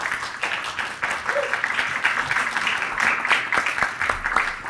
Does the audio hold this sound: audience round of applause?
yes